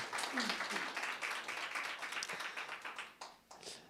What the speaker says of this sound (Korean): 우리 집사님께 다시 한번 감사와 또 격려의 박수 한번 드리겠습니다